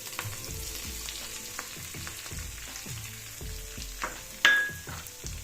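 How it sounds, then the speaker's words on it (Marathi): Cumin seeds sizzle and crackle in hot oil, a dense frying hiss with scattered pops and stirring, tempering for dahi kadhi, with a sharp louder burst near the end as something more goes into the pan. "त्यामध्ये जिरे टाकायचे जिऱ्याची फोडणी करायची"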